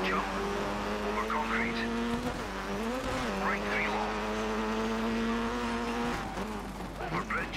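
Rally car in the Dirt 3 racing game skids with the handbrake, engine droning loud and steady with tyre squeal and gravel scrabble, pitch dipping and rising through the slide.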